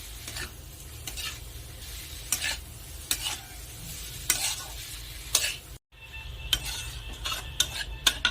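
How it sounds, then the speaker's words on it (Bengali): Fried snail meat and potato being stirred into cooked masala in a pan, repeated metal spatula scrapes and clinks over a low steady sizzle, close by, with a brief gap near the end and no talking. "এখন কষা মশলার সাথে সবকিছু ভালো করে নেড়ে চেড়ে মিশিয়ে নেব"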